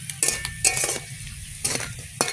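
Food fries in oil in a pan during a crab and eggplant cooking session, with scattered sizzle bursts and metal utensil scrapes and clinks against the pan, close and fairly loud, with no talking.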